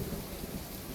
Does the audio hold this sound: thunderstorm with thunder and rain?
yes